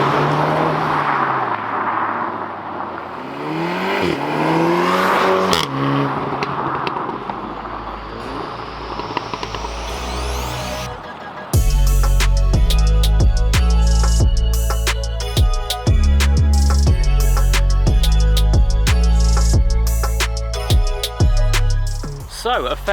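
A Volkswagen Golf R and a Honda Civic Type R hot hatch make a flyby, their engines rising and falling in pitch as they sweep past loudly. Music then takes over for the rest of the stretch.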